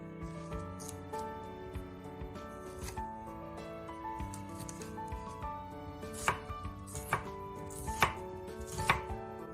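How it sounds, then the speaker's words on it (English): A knife chops a new onion into large pieces on a cutting board, a steady run of crisp, close cuts with a few louder strikes near the end, with no talking. "Cut it into slightly larger pieces, about 7 to 5/16 of an inch wide."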